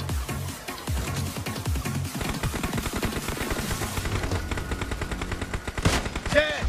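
Rapid automatic gunfire rattles in a PUBG match, with dense bursts of sharp shots overlapping throughout and a few louder, closer cracks toward the end.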